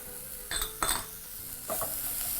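Cumin powder and nutmeg stirred into a beef casserole in a pot, a close, steady sizzle broken by a few bursts of spoon scraping and stirring.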